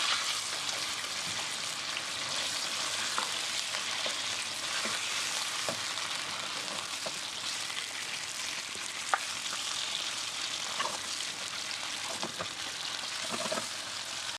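Chicken sizzles steadily in a karahi, a dense continuous hiss of hot oil with occasional soft stirring clicks, close and fairly even throughout, no voices.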